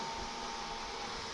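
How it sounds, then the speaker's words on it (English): The vacuum on a RapidColor packaging machine runs as a steady, close, even whoosh with a faint tonal whine, unbroken for the whole moment. "All right, so I'll run my vacuum,"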